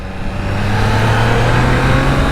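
A 2021 Triumph Trident 660 motorcycle engine revs on Sydney streets, a loud, close, steady pull with the engine note climbing smoothly as it accelerates.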